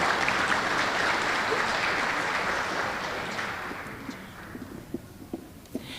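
A crowd applauds loudly at an elementary school student-of-the-month assembly, the clapping gradually thinning out until only a few scattered claps remain at the end.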